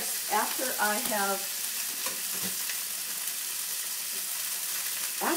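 Date-stuffed tenderloin browning in a hot pan as it is rolled over, a loud, steady frying sizzle with occasional knocks, and brief bits of a voice near the start and end.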